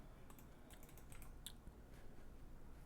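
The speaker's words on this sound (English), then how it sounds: "I can try typing" Faint keystrokes tap irregularly on a computer keyboard, a brief quiet run of clicks over low background hiss.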